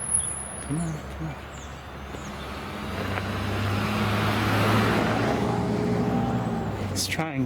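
A car drives past on an outdoor road, a broad swelling rumble that builds to its loudest midway and then eases, heard from a moderate distance with insects chirping and occasional birds in the background.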